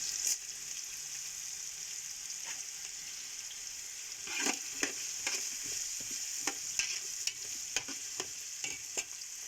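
Onions sautéing with salt in a pan for Coimbatore-style white chickpea biryani: a steady close sizzle broken by repeated scraping stirs, growing busier in the second half.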